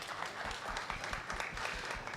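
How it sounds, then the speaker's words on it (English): Audience at a Nairobi gubernatorial debate applauding steadily, a dense wash of many hands clapping at moderate distance with no pause. "I'd like us to give a special round of applause to the Kenya Alliance of Residents Association,"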